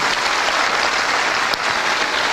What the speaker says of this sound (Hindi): तो मैं चाहूंगा उनके पिताजी के लिए जोरदार तालियां जरूर होनी चाहिए।